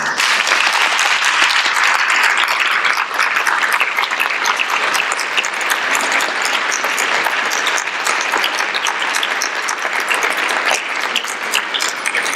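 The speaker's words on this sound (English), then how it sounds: "So if you can stand up and we can give them a round of applause." Loud, sustained applause from a conference audience honoring parents at the PPMD 2016 Connect Conference on Duchenne and Becker, dense clapping that fills the room evenly for over twelve seconds.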